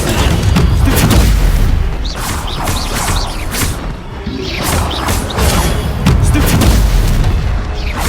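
Incendio fire spells cast in Hogwarts Legacy, loud booming bursts with crackling whooshes and crashing impacts that repeat every second or so over eight seconds, forming a dense, heavy combat barrage.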